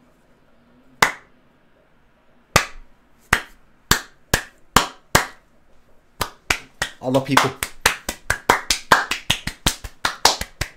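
Bare hands clap a few times singly, then speed up into a dense, rapid patter imitating a roomful of people applauding, with a brief spoken voice.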